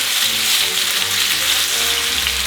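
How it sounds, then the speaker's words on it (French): Beef searing in hot vegetable oil in a pan gives off a steady, dense sizzle that runs unbroken from start to finish, loud and close with no voices. "L'huile est chaude, le bœuf dans la poêle."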